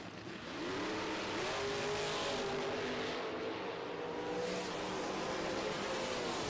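A Chevrolet Nova doorslammer and a dragster make a drag racing run on a strip, heard as a sustained, fairly distant engine roar with a steadily rising pitch and no talk over it.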